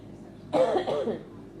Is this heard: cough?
yes